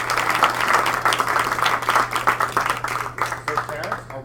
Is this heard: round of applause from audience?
yes